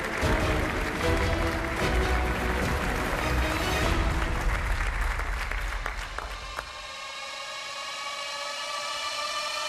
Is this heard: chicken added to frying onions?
no